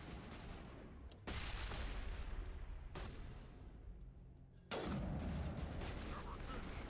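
Turrets firing in Mass Effect, dense bursts of rapid gunfire that start abruptly, ease off and then surge again, loud and close with a voice speaking faintly underneath.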